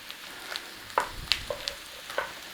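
Mushrooms and onions frying in butter give a soft, low sizzle broken by a few light clicks and taps of stirring, close but quiet, with no voices.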